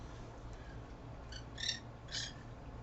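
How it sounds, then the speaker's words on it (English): Two short bursts of bright bird calls ring out over steady low background hum outdoors, the second slightly louder, with no talking. "the birds are being loud"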